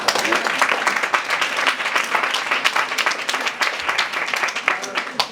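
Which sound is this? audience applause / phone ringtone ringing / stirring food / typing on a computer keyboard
audience applause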